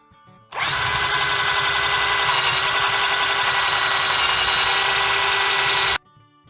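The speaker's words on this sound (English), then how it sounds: "we should be able to drill straight through" A power drill bores through wood in one continuous loud run lasting about five seconds, starting and stopping abruptly, with no voices.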